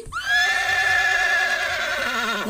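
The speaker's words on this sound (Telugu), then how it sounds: "గుర్రం, హార్స్ ఎలా సౌండ్ చేస్తుంది?" A horse gives one loud, close whinny lasting over two seconds. It rises sharply, then trembles and fades into a wavering neigh with no voices over it.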